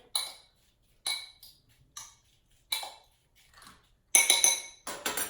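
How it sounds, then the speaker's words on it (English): Spinach stirred in a dish for microwave eggplant parmesan, a utensil scraping and clinking in separate short strokes, then a quicker cluster of clinks near the end. "let me stir this spinach"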